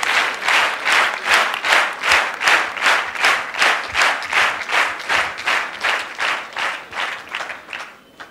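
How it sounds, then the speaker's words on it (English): A panel discussion audience gives a sustained round of applause, a dense loud wash of many hands clapping in a steady pulsing rhythm that fades out at the end. "We would like to welcome all our panel members with a huge round of applause."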